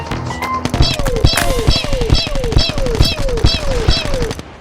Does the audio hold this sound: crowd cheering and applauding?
no